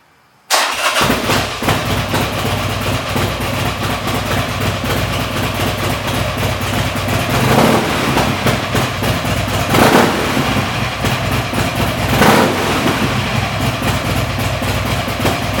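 A Buell motorcycle fitted with a Jardine straight-through exhaust cranks and catches after a short silence, then settles into a loud, rough, throbbing idle that holds steady with occasional revs.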